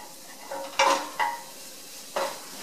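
Minced garlic and shallot sauté in a pan for creamed spinach with mushrooms, a faint soft sizzle punctuated by three short scraping stirs of a utensil moving the small amount around.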